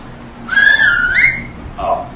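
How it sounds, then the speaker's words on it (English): A loud, piercing finger whistle blown with fingers in the mouth, rising and bending in pitch for about a second, then a shorter, lower blast follows after a brief gap. "the wolf whistle or the finger whistle, which is the whistle that you've probably seen someone do before"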